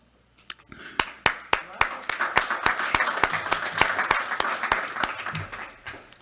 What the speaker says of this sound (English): The clapping was to acknowledge.